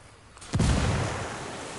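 A grenade detonates during an airsoft milsim patrol game, a single sharp outdoor pop with a deep thump that hangs and decays into a lingering rumble over about a second.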